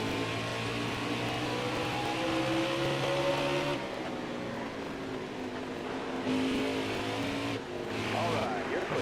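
NASCAR stock cars in NASCAR Heat 4 roar around Bristol in lap traffic, loud layered engine drones rising and falling as cars pass close, with a brief dip mid-way, continuing steadily throughout.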